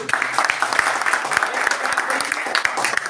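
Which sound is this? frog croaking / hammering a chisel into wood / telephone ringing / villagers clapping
villagers clapping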